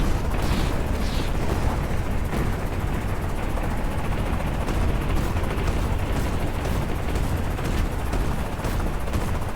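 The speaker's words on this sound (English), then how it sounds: "Roland is now rocketing the turrets on the compound at Burn." Rocket fire striking turrets on a compound in a military video game: a dense, continuous rumble of blasts and gunfire, loud and close, with no clear break between impacts.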